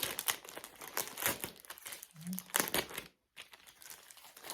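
The plastic packaging bag of a folding umbrella crinkles and rustles in bursts for several seconds, close and loud, with a brief silent gap near the end.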